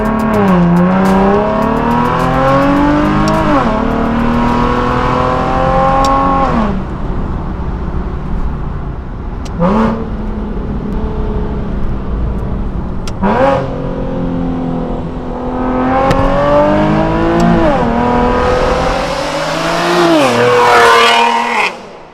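A Nissan 370Z Roadster engine in a Need for Speed racing game, revving up through repeated gear pulls with rising whines that drop sharply at each shift, loud and close with no other sounds.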